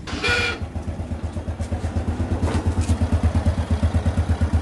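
A Honda Wave Dash 110R small motorcycle engine fires up for the first time after a valve adjustment, settling into a close, steady, fast-pulsing idle with a faint mechanical clatter.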